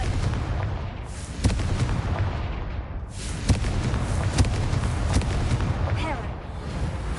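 Confringo spell blasts in Hogwarts Legacy on PS4 land as several sharp booms and bangs over a constant loud rumble of battle noise, with a voice talking through parts of it.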